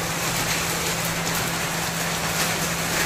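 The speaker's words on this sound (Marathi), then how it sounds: "पावसाचा आवाज येत आहे ना, तर पाऊस आलेला आहे." Heavy unseasonal rain pours down steadily in a continuous dense hiss throughout, with a faint low hum underneath and no talking.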